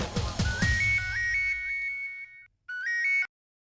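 An incoming call sets off a phone ringtone: a bright electronic whistling melody repeating in quick notes. It pauses briefly, then plays one more short burst. A few thumps come just before it starts.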